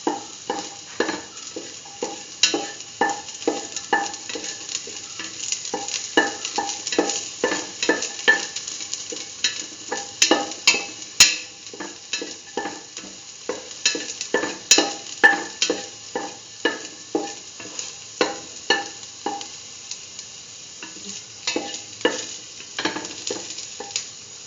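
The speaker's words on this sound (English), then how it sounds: "Salt and mix." A spoon stirs a salted split chickpea and yam stew in a sizzling pan, rhythmic scraping strokes repeating steadily over a continuous frying hiss, close and without talk.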